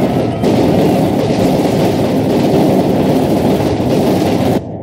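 A train rumbles steadily in the WW2 video game Company of Heroes 2, set during Operation Barbarossa. A dense, loud, continuous roll with faint clatter runs throughout and cuts off abruptly at the end.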